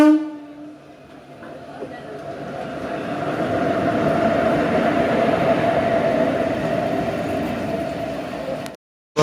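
The 22898 Digha–Howrah Kandari Express pulls out of platform 3 at Digha station. A short horn blast opens, then a heavy rolling rumble of wheels and carriages builds and holds before the sound cuts off abruptly.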